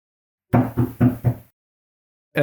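Four firm knocks on a door in quick succession, close and loud, followed by silence and the start of another sound.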